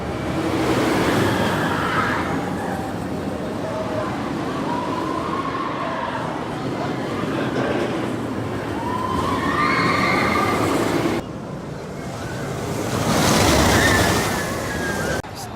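Riding the Steel Vengeance roller coaster at Cedar Point brings a constant roar of wind rushing past the microphone, with rumbling track noise and distant shrieks and cries from riders rising and falling throughout.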